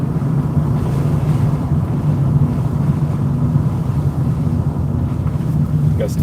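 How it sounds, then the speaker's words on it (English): Heavy gusty wind during a storm chase through Virginia, a dense continuous roar buffeting the microphone at close range with no breaks, a voice talking faintly beneath it. "Let the heavy winds roll. Heavy winds, heavy winds."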